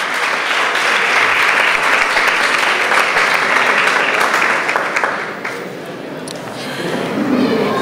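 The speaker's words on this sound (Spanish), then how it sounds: "Un fuerte aplauso para estos muchachos." Students at a school debate in Nicaragua get loud sustained applause from the audience, thinning toward the end as murmuring voices come through.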